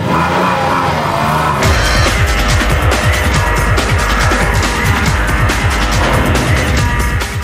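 A Porsche 911 GT3 engine roars loudly and steadily, revving and rumbling as the car drives, with a deep throaty growl throughout.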